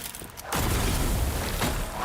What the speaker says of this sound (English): What the fuck was that explosion?